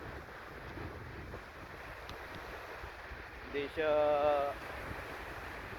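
Strong wind buffets the microphone at a beach with yellow sand, a steady roar of gusts and surf throughout, with a voice speaking briefly near the end.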